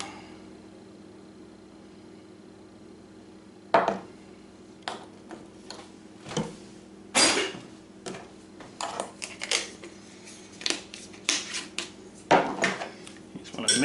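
A spoon clacks and scrapes against a bowl, mixing black pepper, cayenne and brown sugar into a spice rub for country-style ribs; after a quiet start, irregular clicks and taps come close and steady.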